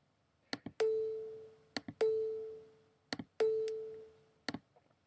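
Three short synthesized tones from a loop multiplying amplitude by 0.9999, each starting sharply and fading away, separated by brief clicks, clean and close with no talk.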